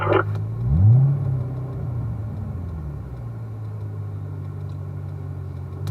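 A car cruises slowly around a track, its engine a steady, loud low rumble with a brief swell early on, then settling into an even drone.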